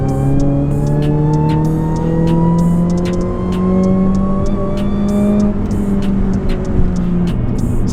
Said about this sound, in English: The supercharger is so loud.